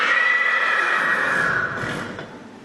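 A horse gives a loud, close whinny lasting about two seconds. The high, wavering neigh fades out at the end, with faint low rustling underneath.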